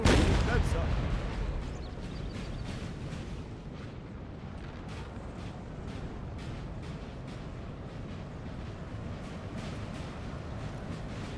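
Artillery fire during a Napoleon: Total War battle at Quatre Bras, a loud opening boom followed by a continuous rumbling din of distant cannon and musket fire, with a narrator talking over it.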